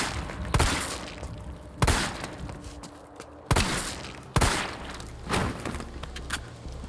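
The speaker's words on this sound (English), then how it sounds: "The weapons give you realistic sounds as what you expect to hear from each of these weapons." Gunfire from weapons in the video game Resident Evil 3, with about five loud, separated bursts of shots set against a dense, busy game soundscape. No one talks.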